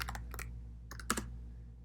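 A command is typed on a computer keyboard in a few quick bursts of key clicks separated by short pauses, fairly close and clear against a low steady hum.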